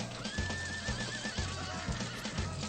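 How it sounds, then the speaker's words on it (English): A horse whinnies loudly in the BS Zelda video game, a rising then wavering neigh over a steady, regular clip-clop of hooves and a low game soundtrack, with no speech. "Oh, there's some horse battles going on."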